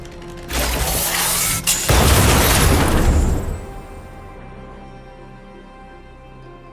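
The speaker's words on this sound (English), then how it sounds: "We wiped them all out in a single explosion!" Explosion of an automaton stealth bomb in the video game Honkai: Star Rail, a loud booming blast with crackling debris that swells, then rumbles and fades into a lower mechanical hum, no talk.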